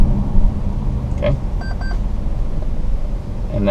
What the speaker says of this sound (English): that beeping is letting me know that the steering assist is unavailable